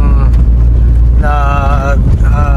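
A car drives along Marcos Highway with a loud, constant road and engine rumble and heavy wind buffeting. A tonal whine or hum rises over it at times, and no words are spoken.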